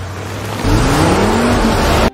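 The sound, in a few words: cars speeding in a chase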